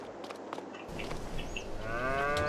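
Cows low in the Farming Simulator 22 video game, with a drawn-out moo rising near the end over a busy background of clicks and ambient farm noise.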